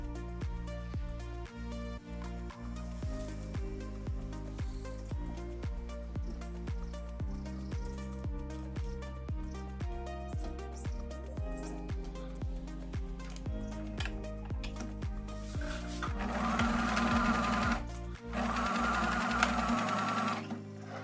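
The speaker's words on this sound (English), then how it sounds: "we're going to sew with a 1 centimetre seam allowance" A sewing machine stitches a centre front seam of a beginner babydoll dress with a 1 centimetre seam allowance, its rapid mechanical whirr running steadily and close up throughout, briefly louder and brighter near the end.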